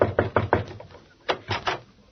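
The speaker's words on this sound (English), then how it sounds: "I'll knock on the door." Someone knocks on a dressing room door in an old comedy film, first with a quick run of four raps, then after a pause a second group of three, close and crisp.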